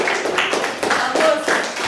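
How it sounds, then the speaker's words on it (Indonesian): Applause for a student group in an Indonesian language classroom, a burst of clapping from the class lasting about two seconds with dense overlapping hand claps. "tepuk tangan untuk kelompok satu"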